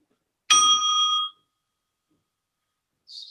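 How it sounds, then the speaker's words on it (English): A small tabletop bell is struck once, giving a bright, ringing tone that fades within about a second, followed by silence and a faint high chime near the end. "Like I have this bell on my tabletop."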